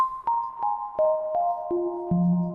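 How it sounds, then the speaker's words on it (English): Kodamo EssenceFM MKII synthesizer playing a descending sequence of about seven plucked tones, each hit ringing out through a hall reverb so the notes blur and sustain into one another. "Hall reverb."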